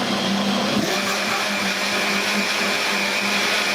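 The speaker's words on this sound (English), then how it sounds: "now I'm gonna blitz the watermelon for about a couple of minutes" Blender blitzing chunks of watermelon with water for a mocktail, a loud, steady motor roar with a dense whirring hiss, continuous and close from start to finish.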